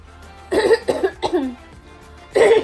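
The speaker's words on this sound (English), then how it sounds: "Sorry I keep coughing in this video, I just keep coughing today." Several harsh coughs: two quick ones close together, a rougher one trailing off, a pause, then another loud cough, all near the microphone.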